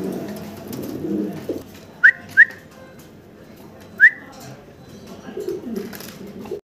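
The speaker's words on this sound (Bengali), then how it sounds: "এখানে সিঙ্গেল দুই পিস কবুতর আছে" Potter and Lahori pigeons coo low and intermittently, with a few sharp rising whistle-like chirps standing out clearly between the murmuring calls.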